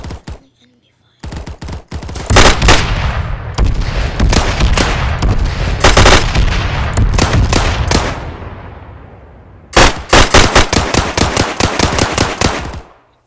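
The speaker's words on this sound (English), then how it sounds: "I can't see where I'm being fired at from." Rapid bursts of gunfire from a Roblox weapon-testing game, with dense automatic volleys and single shots crowding the clip, pausing briefly and returning in loud rhythmic strings near the end.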